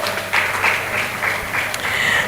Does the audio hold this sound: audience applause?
yes